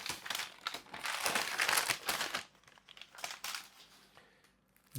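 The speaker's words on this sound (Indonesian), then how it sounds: "Sekalian gue unboxing nih ya" Package wrapping crinkles during an unboxing of a Traveler's Notebook, with close, bursty rustling that is busiest early and tapers into quieter, scattered crackles.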